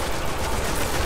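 Dense, continuous gunfire in the Destiny King's Fall raid, a steady wash of rapid shots filling the whole moment at close, loud level with no talk over it.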